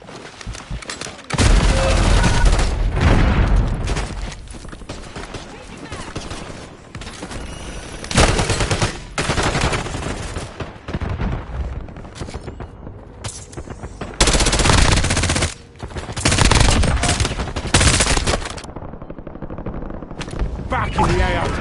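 Heavy, loud gunfire in Call of Duty Warzone with long automatic bursts and scattered shots, broken by short gaps, mixed with battle noise and game voice callouts.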